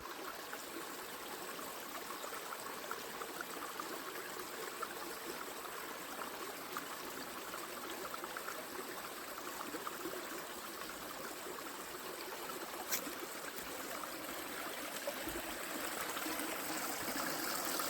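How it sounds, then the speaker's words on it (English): A Georgia mountain stream on the Appalachian Trail flows in a faint, continuous wash of trickling water with no voices. "Good Georgia mountain stream"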